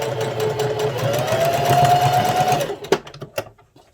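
A sewing machine stitches organza ribbon onto a sock, running in a steady whirring burst that ends abruptly, followed by a few quieter clicks and knocks as the fabric is handled.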